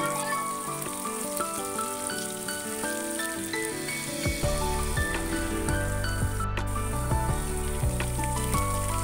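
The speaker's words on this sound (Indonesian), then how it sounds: "Ini kita tumis sampai matang ya, biar gak langu bumbunya." Chili and spices stir-fry in a pan for a spicy bean sprout and tofu dish, a soft steady sizzle under music, with stirring clatter faintly audible.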